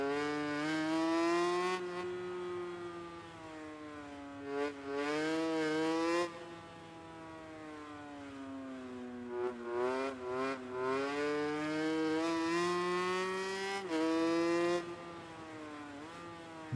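A 500cc motorcycle engine in MotoGP 19 drones through a steady, buzzy whine that rises and falls with throttle and gear changes over several stretches, fairly quiet, with no talk.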